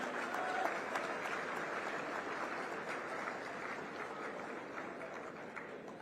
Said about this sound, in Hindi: ऐसे मुख्यमंत्री का जोरदार तालियों से अभिनंदन करो